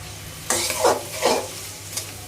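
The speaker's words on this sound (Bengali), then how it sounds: "চিংড়ির সাথে চিকেনগুলো দিয়ে দিলাম, যে চিকেনগুলো আমি কেটে রেখেছিলাম।" Shrimp and chicken frying in a pan for seafood fried rice, a steady sizzle under repeated scraping stirs of a utensil against the pan, about three strokes in quick succession, close and fairly loud.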